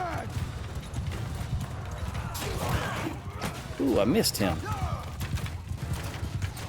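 Horse archers' horses galloping in Mount & Blade II Bannerlord, a steady clatter of hooves across a battlefield with clashes and scattered thuds, under someone talking.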